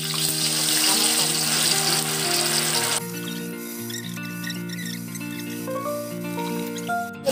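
Milk tofu soaked for 17 hours is dropped into hot oil, setting off a loud bubbling sizzle that steadily settles into a quieter crackle with scattered pops.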